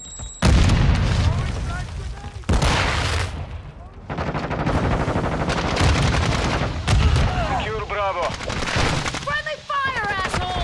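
Sticky grenade blast in Call of Duty: Modern Warfare II during a Domination match, a loud close boom amid repeated gunfire bursts and game sound effects, with voice callouts under the action.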